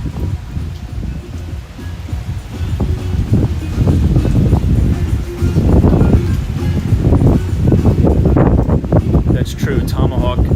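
Strong wind at South Beach, Miami, Florida buffets and roars across the microphone in loud, continuous gusts, with a rustling texture and occasional surges.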